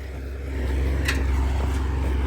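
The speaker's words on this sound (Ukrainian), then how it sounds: "Трактор йде на всіх газах," A tractor engine at full throttle while ploughing across a steep field slope, a steady low drone that swells after the first half-second and then holds loud and even, with no talking.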